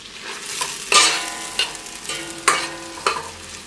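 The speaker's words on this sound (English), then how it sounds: "And we're going to fry this for a few minutes, and then I will add in the beef" Red onions fry in butter over medium heat while being stirred, a soft continuous sizzle punctuated by several distinct spatula clanks and scrapes against the pan at irregular intervals, close by, with no talking.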